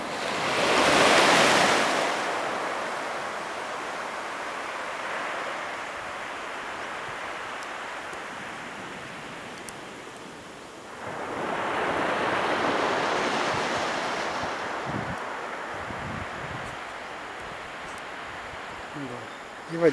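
Ocean waves roll onto a beach at Ao Yai on Koh Phayam, Thailand. Two broad surges of surf wash in and fade over a steady soft hiss of water and light wind.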